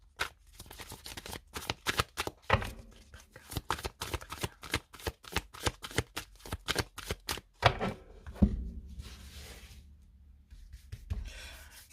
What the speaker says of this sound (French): Le temps que je mélange mes cartes.